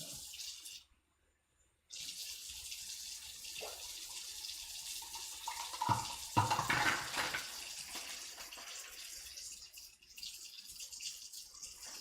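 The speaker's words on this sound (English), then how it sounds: "so we need a little bit more water in there" Water runs steadily into a cooking pot for a fish stock with a chicken bouillon cube, a continuous close splashing stream that briefly stops and then resumes, with a louder gush midway.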